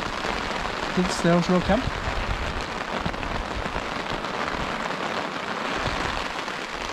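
Heavy rain pours onto a tarp at a lakeside camp in a dense, steady patter, heard close and continuous, while someone speaks briefly near the start.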